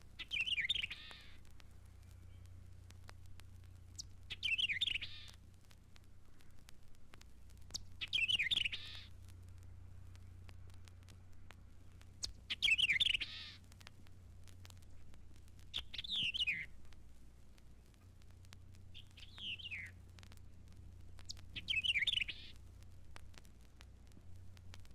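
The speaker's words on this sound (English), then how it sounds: "now and then singing its un-vireo-like song" A white-eyed vireo sings from shrubbery in a mountain sanctuary, short bright phrases repeated about every four seconds, clear and moderately near over a low steady hum.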